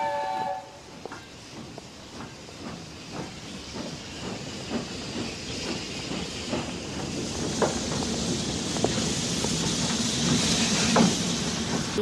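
A train in motion heard from aboard, a steady rumbling hiss with a regular clatter of wheels over rail joints that builds gradually in loudness.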